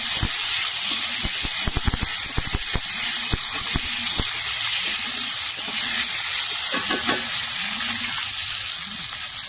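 Beans and potatoes sizzle and hiss in a hot pan, close and steady, with repeated scraping and stirring clicks and bursts of steam, no voices.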